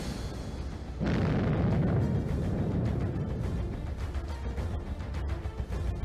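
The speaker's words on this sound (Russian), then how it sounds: "Вскоре в воздухе разнеслось эхо взрывов" Loud, sustained blasts of TNT charges set on the hull of a KV-1 tank, a sudden deep roar that starts abruptly and rumbles on with echoing booms for several seconds.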